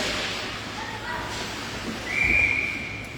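A referee's whistle shrills once at an ice hockey game, a sharp steady high tone lasting about a second, cutting through the arena crowd murmur.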